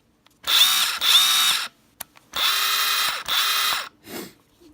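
A Kobalt 24-volt max 3/8-inch cordless impact wrench runs in four loud, close bursts of steady high-pitched whirring, each about a second long, with short pauses between and a brief click near the end.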